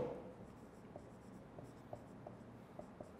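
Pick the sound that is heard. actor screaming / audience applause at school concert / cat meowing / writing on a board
writing on a board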